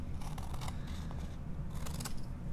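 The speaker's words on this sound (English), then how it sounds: "Just cut slowly and neatly." Scissors cutting paper to trim a rectangle off a sheet and make a square for origami: slow, close snipping and crisp slicing strokes in a few bursts, with no talk.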